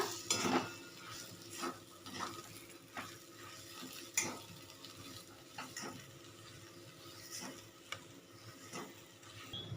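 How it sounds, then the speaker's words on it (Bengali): A spatula scrapes and stirs grated boiled potato into a fish kachori filling in a pan, repeating soft rhythmic strokes and clinks over a faint sizzle, quiet and close. "এবার খুব ভালো করে মিশিয়ে নেব আলুটা"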